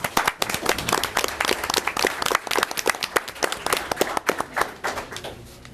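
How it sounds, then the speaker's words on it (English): Dense round of audience clapping at a public meeting, steady and moderately loud, tapering off toward the end with no talk over it. "I just want to give him a round of applause"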